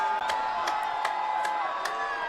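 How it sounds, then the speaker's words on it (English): A loud crowd cheers at a varsity football game, a sustained roar of many voices with sharp bursts that rise and fall through the moment. "And the crowd is loud right here."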